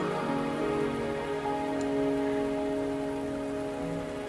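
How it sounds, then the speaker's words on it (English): Steady rain falls in the video game Wuthering Waves, a dense, even hiss of drops that holds at a constant level throughout, with a soft tonal hum running underneath. "Are you trapped here by the rain?"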